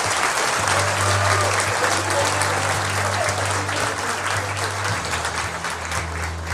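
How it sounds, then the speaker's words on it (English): A crowd applauds exhibitors at a beef cattle showmanship contest, sustained clapping over a low, steady hum in a large show arena. "Let's give our exhibitors number one nice round of applause, guys."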